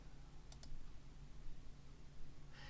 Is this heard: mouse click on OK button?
yes